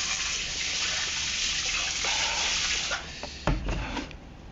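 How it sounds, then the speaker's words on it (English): A steady gushing pour of hot water onto ice splashes close by, with a few sharp cracking knocks near the end. "Hot water I'm pouring."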